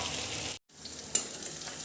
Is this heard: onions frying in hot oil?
yes